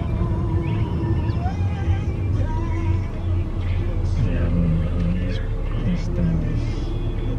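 Interior of a car on the road, crossing a bridge: a continuous low engine and road rumble fills the cabin, steady and close, with people talking over it.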